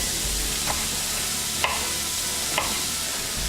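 Onion and zucchini fry in a pan with a steady, broadband sizzle, broken by a few brief stirring scrapes near and clear, with no voices.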